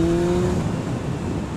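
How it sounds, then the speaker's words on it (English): A Yamaha XJ6 motorcycle engine drones steadily while riding, a close, continuous hum with wind rush and no pauses throughout. "Now riding the bike, great fun. Pulls like mad"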